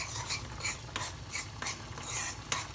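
Dry flour being roasted in a pan, a spatula scraping across the metal in steady rhythmic strokes about three per second, close and moderately loud with no talking.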